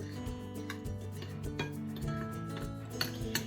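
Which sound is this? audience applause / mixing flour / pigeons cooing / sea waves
mixing flour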